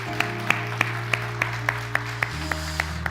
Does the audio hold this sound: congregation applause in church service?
yes